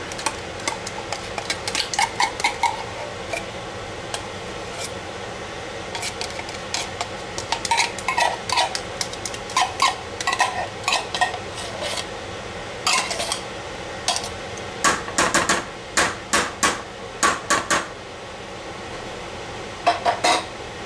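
A spoon stirs creamy sauce and canned soup in a pot for an Amish chicken spaghetti casserole, giving close metallic scrapes and clinks that come in irregular bursts and grow busier toward the end, without any talking.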